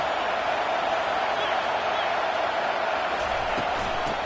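A stadium crowd at a football game roars in a loud, steady wall of cheering that holds unbroken throughout, with a commentator's voice faintly over it.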